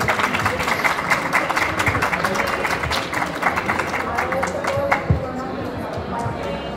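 Audience at a book presentation in Mexico applauds with distinct, fairly close individual claps that thin out toward the end, amid some background voices.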